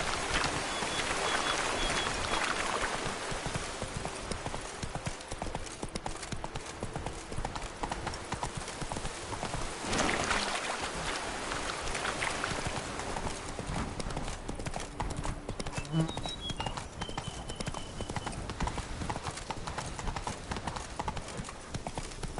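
Roach, Geralt's horse in The Witcher III: Blood and Wine, gallops with a continuous rapid clip-clop of hooves, close and prominent over ambient game sound and music.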